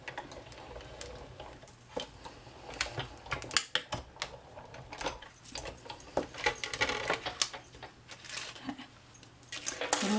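A framelit die cutting an elf shape from card stock as it runs through a cranked die-cutting machine, giving a continuous close ratcheting and crunching clatter of uneven ticks and clicks for about ten seconds, with no voices.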